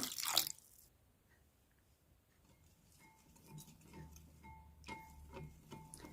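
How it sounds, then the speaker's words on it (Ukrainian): Warm water poured over yeast and sugar while making Easter bread in a Transcarpathian village kitchen: a faint, soft trickle and patter of liquid after a brief louder burst at the start, with no talking. "У дружджі висипаю цукор, наливаю теплої водички."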